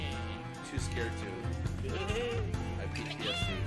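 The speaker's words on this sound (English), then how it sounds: "Okay, we can pick up the sheep again now." Cartoon sheep bleat repeatedly in the co-op video game Lumberhill, wavering calls over rhythmic game music with thumping beats, several bleats in quick succession toward the end.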